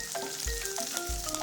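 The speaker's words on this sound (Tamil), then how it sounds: "அது கூடவே சிறிதளவு கருவேப்பிலை சேர்த்து நல்லா வதக்கி விட்டுக்கலாம்" Green chillies and curry leaves sauté in oil in a pan for chilli chicken, giving a steady, close, crackling sizzle broken by a few soft scraping stirs. No one speaks.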